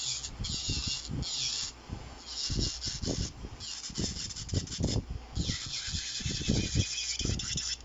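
Steady high-pitched whirring and grinding of an electric nail drill filing acrylic, continuous for several seconds with varying pressure and no talk.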